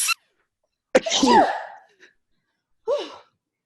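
A single sharp sneeze in a stage performance of Alice in Wonderland, with a breathy intake before it, then a short vocal sound a moment later, close and clear against silence.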